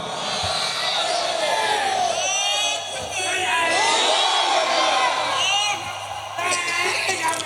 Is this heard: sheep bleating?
no